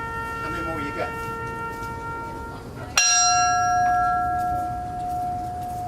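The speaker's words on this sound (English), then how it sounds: "So we need some more bell ringers." A memorial bell rings at a service for the Edmund Fitzgerald, with a few ringing tones decaying into long sustained overtones, then one loud clear strike that lingers; the room stays otherwise quiet.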